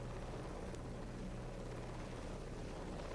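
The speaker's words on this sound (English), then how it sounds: "We'll bring out the baby Chinook." A Chinook helicopter in the video game War Thunder gives a steady, loud rotor drone with a low throbbing hum, holding constant for over three seconds with no voices.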